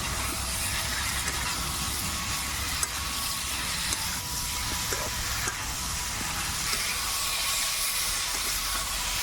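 Pre-fried cauliflower and potato pieces sauté in hot spiced oil with a steady, close, broadband sizzle and hiss that holds throughout, with faint scraping now and then and no speech.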